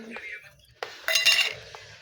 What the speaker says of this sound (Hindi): तन्नू जिन्ने काट दी चक्कू धोएगी।